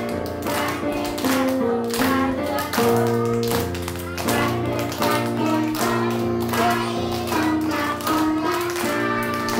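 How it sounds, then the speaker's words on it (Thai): Kindergarten children's voices sing along while hands clap in a steady, even rhythm, each clap crisp and regular under the melody. "แล้วก็รู้จักจังหวะด้วยปรบมือไปด้วย"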